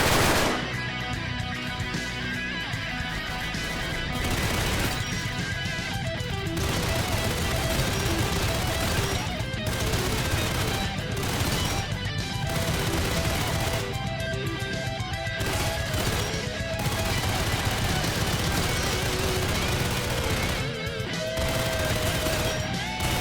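Custom-built machine gun in Weird Gun Game firing long, rapid, loud bursts nearly continuously, with short pauses between strings of shots and a voice talking faintly beneath.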